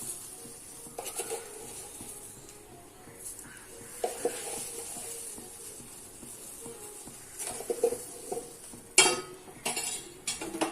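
A spoon stirs milk in a pot over low flame while making homemade ice cream, giving soft scraping and occasional light metallic clinks against a faint steady background hiss.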